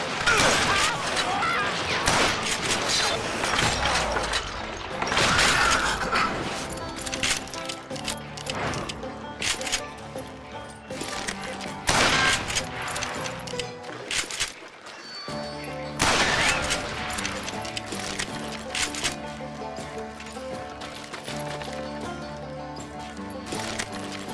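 Gunfire rings out in the Call of Juarez Gunslinger video game, scattered shots over a dense, continuous mix of galloping horse hooves, whinnies and a game score, with voices calling out.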